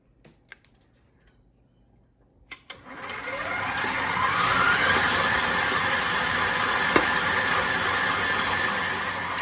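A KitchenAid stand mixer whisks peanut butter cookie dough, starting after a few clicks and handling knocks, then spinning up into a loud, steady whirring hum that runs to the end, close and without talk.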